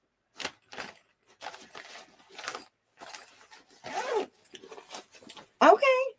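A zipper on a cheer duffle bag is pulled in a series of short quick rasps, close and crisp, with one sharper final pull, amid brief pauses.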